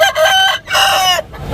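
At the Lalukhet bird market in Karachi, a rooster crows loudly and close in short, repeated bursts, followed by one long strained call, with the crowing itself filling the moment and no talk over it.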